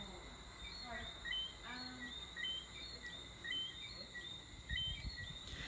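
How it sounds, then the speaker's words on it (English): Birds calling at night in Barbados, a faint repeating high chirp pattern at steady intervals over a quiet outdoor hush, with a few soft low knocks and rustles near the end. "Those are birds calling us to bed."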